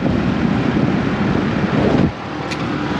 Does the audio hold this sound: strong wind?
yes